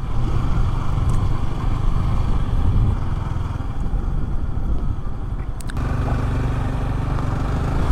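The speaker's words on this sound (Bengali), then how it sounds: "একটা স্পোর্টস বাইক নিয়ে সবুজ ঘাস আর বনের মাঝখান দিয়ে রাইড করতেছি।" A sports motorcycle riding between green grass and forest, its engine droning loudly and steadily up close with wind rush, the tone shifting slightly partway through.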